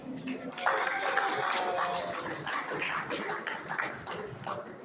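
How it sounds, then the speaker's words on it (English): Applause at a community iftar gathering in Astoria, Queens, a moderate crowd clapping steadily, slightly distant, with voices mixed in under it. "So everyone please give her a round of applause."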